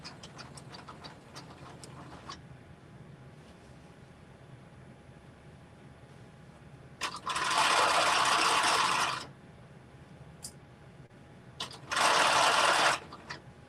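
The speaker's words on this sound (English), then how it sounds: "we're going to do one long stitch all the way around" A sewing machine stitches one long seam on a pair of jeans sewn from a Simplicity 8655 pattern. Two separate bursts of close, rapid mechanical stitching come after a quiet stretch, with no talk.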